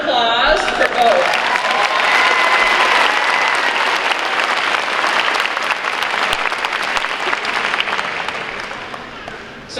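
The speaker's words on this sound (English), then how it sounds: "Round of applause for both." Sustained applause from a large audience at a high school graduation ceremony, honoring award recipients; dense, steady clapping fills the hall for nearly the whole stretch and fades only slightly near the end.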